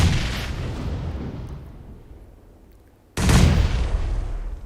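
A grenade blasts in PUBG, a sharp loud boom at the start that rumbles and fades over a few seconds, then a second heavy explosion hits suddenly and decays more slowly.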